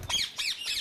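A large white albino ringneck parrot from Holland gives three harsh, shrill squawks in quick succession. The calls are close and loud, with no talking.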